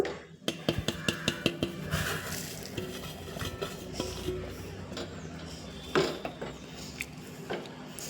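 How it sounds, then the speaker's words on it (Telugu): Roasted semolina is added bit by bit to a pan and stirred into upma, with a quick run of metallic clinks at first, then steady scraping and stirring close by and a soft background hum. "ఇప్పుడు వేయించి పెట్టుకున్న రవ్వని కొంచెం కొంచెంగా వేసేసుకుందాం"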